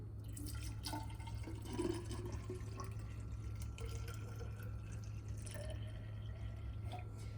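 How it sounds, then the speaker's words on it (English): Hot water poured into a container, a faint continuous trickle and splash with small drip-like plinks, heard alone at low level. "I'm gonna go ahead and pour some hot water in."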